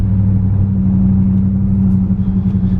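Ram truck with a swapped 8-speed transmission pulling in third gear at around fifteen miles an hour, a loud steady low engine drone with a sustained hum that eases slightly near the end.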